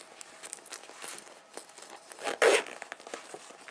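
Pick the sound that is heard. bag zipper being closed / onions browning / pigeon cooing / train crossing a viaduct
bag zipper being closed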